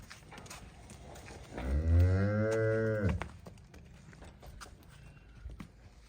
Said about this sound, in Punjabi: ਇਹ ਬਰੀਡ ਵਾਲੀ ਵੱਛੀ ਇਹ ਵੀ ਸੋਹਣੀ ਆ